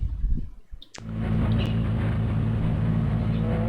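BMW E90 race car in RaceRoom at Falkenberg, its engine settling into a loud, steady drone with a strong low hum that holds without a break after a short quieter opening.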